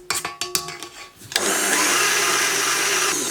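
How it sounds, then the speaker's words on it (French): A stand mixer starts up and whisks brioche dough with flour, a steady loud motor whir running alone after a few short clatters and knocks at the start. "on va commencer par fouetter environ 30 secondes"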